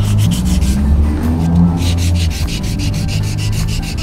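Sandpaper worked by hand along an electric guitar's wooden neck, giving steady, close, loud rubbing strokes in a quick repeating rhythm, with no voices.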